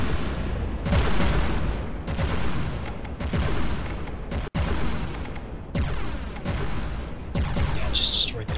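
A 500mm machine gun firing in the game From The Depths, heavy repeated booming bursts in rapid volleys with a brief break midway, loud and close.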